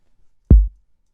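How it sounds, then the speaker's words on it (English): Single dull kick drum hit in a trap beat made in Ableton Live, a short, boomy low thump that stands alone in silence. "In cases where my kick sounds like this, like it sounds dull."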